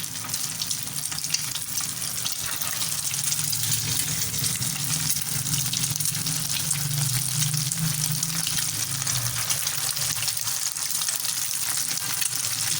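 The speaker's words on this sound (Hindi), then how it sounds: "ये देखिए इसमें हम कबाब डालते हैं।" Shami kebabs fry in hot oil, giving a loud, unbroken hiss and crackle that stays close and constant from start to finish, with no one talking over it.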